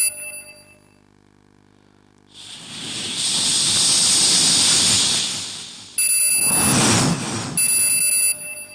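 A contestant on an open-mic comedy stage uses his voice to imitate a steam railway train from 150 years ago: a long rising steam hiss, then shrill whistle-like bursts, loud and close.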